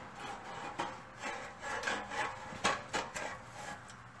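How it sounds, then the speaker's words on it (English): A Borla S-Type axle-back muffler is worked onto a car's exhaust pipe at a tight connection, giving a series of close, scraping metal rubs and short grinding pushes with no talking. "go ahead and slide it on there. Sometimes these are tight connections"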